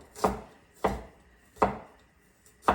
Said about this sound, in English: I'm going to chop some